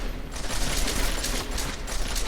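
Rapid automatic gunfire from Deus Ex: Mankind Divided rattles in a close, loud, steady fusillade throughout, with no voices.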